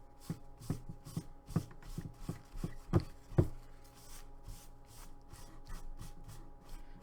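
Rhythmic dry rubbing as a paper towel wipes over a textured resin skull, a series of soft scuffing strokes with a few firmer swipes midway, close and fairly quiet with no talking.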